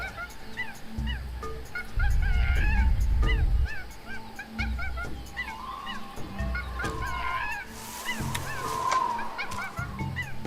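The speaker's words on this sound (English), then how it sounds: "That jungle sure is noisy." Busy video game jungle ambience full of animal calls: repeated honking, goose-like and yipping cries scattered over the whole stretch, with a low droning hum swelling underneath at times.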